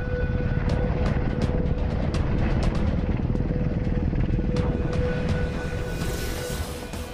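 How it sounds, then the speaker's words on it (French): A helicopter heard steadily for several seconds, a loud continuous rotor and engine roar with rapid chopping pulses that ease off slightly toward the end, with nothing else audible over it. "Et le voilà, l'hélicoptère par excellence."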